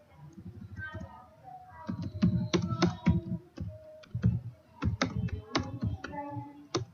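Someone types a C program on a computer keyboard, with close, irregular bursts of key clicks and clacks separated by brief pauses, and faint speech-like sounds in places.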